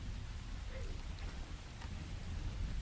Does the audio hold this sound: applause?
no